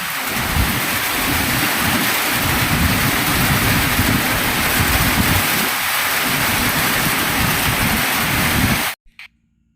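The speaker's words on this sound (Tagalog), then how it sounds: "lakas na naman ng ulan" Heavy rain pours steadily in a dense, loud hiss with low rumbles underneath, then cuts off abruptly near the end.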